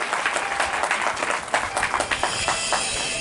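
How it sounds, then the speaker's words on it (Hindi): A crowd gives dense, sustained applause at a welcome ceremony in Nagda for an award-honoured man, with many overlapping claps rising and falling steadily throughout. "जोरदार तालियां"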